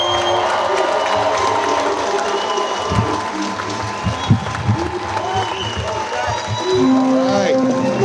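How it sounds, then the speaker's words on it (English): An audience at a Tampa Bay leadership school event applauds to welcome a speaker, with sustained clapping and some cheering, and voices mixed in throughout. "a big welcome, big round of applause, everything for him"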